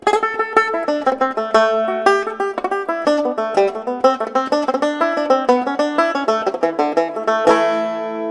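A bright plucked banjo melody played solo in an Irish traditional style, quick picked notes with rapid triplet ornamental runs, ending on a ringing held note.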